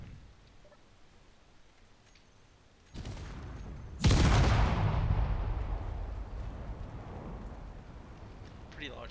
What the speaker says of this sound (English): Pretty large explosion.